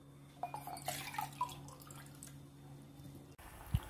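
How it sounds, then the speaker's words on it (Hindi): Water being poured into rice in a pot while cooking soya pulao, a short run of gurgling, splashing pours and drips over a low steady hum, ending with a soft thud. "इस ग्लास की 1 ग्लास चावल लिया था मैंने तो अभी 2 ग्लास पानी डालूंगी।"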